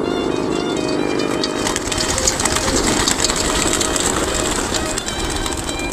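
Racing pigeons are released at a pigeon race in Carmen, Cotabato, a dense, loud rush of wing flapping and fluttering that fills the air continuously, close by.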